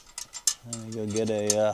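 Screws are tightened with a wrench while a desk lamp built from car parts is reassembled, producing a close ratcheting, clicking mechanical sound that builds into a steady whirring tone, with no voices.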